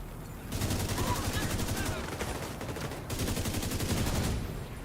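Automated turrets in The Division 2 firing rapid sustained bursts, a dense machine-gun rattle that runs almost the whole clip with one brief gap, loud and close.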